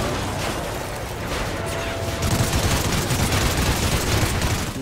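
Dense, overlapping bursts of automatic gunfire from the Call of Duty: Ghosts campaign, mission Struck Down, crackle steadily throughout, growing louder and busier halfway through.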